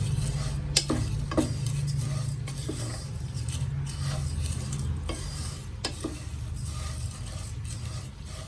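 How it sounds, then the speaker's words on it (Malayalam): Vermicelli roasting in a dry pan, with a constant gentle sizzle and repeated scraping taps of a spoon stirring, close by and steady. "രണ്ട് കപ്പ് സേമിയ എടുത്തിട്ടുണ്ട് അത് ഇട്ട് ഒന്ന് വറുത്തെടുക്കാം നന്നായിട്ട് വറക്കണം"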